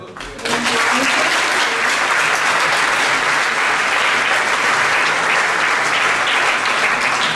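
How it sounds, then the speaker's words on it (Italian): Loud, full audience applause at an Italian awards evening, starting abruptly after a brief pause and continuing as a thick, unbroken wash of clapping for several seconds. "Un applauso."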